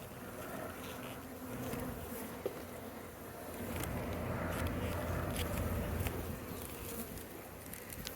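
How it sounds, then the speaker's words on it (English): Honey bees drone in a steady, close swarm around an open beehive frame, a continuous buzz that swells a little midway with brief individual passes flicking by, no talk heard. "Here is a bee right here with a bunch of pollen on its back legs."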